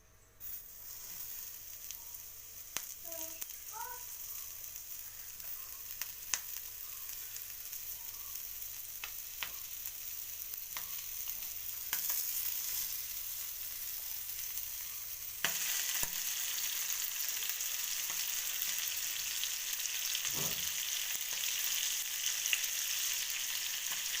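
Bangude mackerel fish frying in hot oil in a pan on a gas stove makes a steady quiet sizzle, louder after midway, with a few soft clinks and scrapes of handling and no talk.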